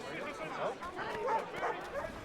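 A dog being petted in Assassin's Creed III gives short yips and barks amid game sound, heard under someone talking.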